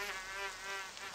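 Swarm of flies buzzing out in a Japanese horror video game, a steady dense insect drone that holds level and close throughout.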